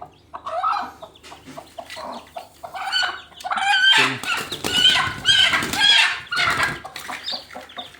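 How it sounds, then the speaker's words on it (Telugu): A brooding hen clucks repeatedly while hatching chicks, with close, loud bursts of clucking and calling on a farm. "ఈరోజు పెట్ట పిల్లల్ని చేస్తుందండి."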